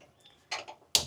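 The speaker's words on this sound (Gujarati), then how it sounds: "ગેસ ચાલુ કરી દીધી।" A kitchen gas stove knob is turned on, giving two quick, sharp mechanical clicks close by in otherwise near silence.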